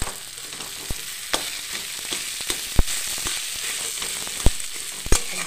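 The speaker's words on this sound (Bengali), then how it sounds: "এবার আমি এর মধ্যে সেদ্ধ করা আলুগুলোকে দিই।" Boiled potatoes sizzle in hot oil in a pan, a steady crackling fry with sharp, irregular clicks and taps of a spatula every second or so, close and without talk.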